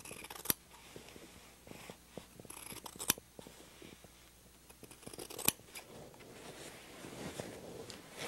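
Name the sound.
scissors cutting fabric strips for bias tape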